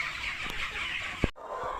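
Laying hens cluck in a continuous low chatter of fowl, fairly close, with a brief sharper sound near the end before the flock noise drops away, no talk over it.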